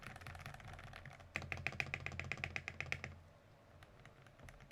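Quick rattling keystrokes on a KBDFans KBD67 MKII mechanical keyboard, a dense run of clicky, clacky taps for about two seconds close to the mic, fading to softer scattered presses against a low background hum.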